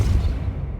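Depulso force spell cast in Hogwarts Legacy, a short deep low-end whoosh and thump lasting under a second, fairly loud and without talk.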